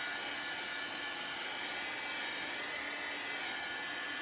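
A hair dryer blows over chalk paint on weathered wood, giving a steady, close airy whoosh that holds unchanged throughout with no voices.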